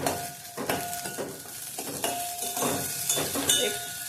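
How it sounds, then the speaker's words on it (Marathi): Sago pearls roasting in ghee in a pan, with cashews and almonds, give a continuous close sizzle broken by quick scraping stirs and light utensil clinks. No voices are heard. "काजू बदाम भाजून झाले त्यातच आपण शाबू जरा भाजून घेऊया।"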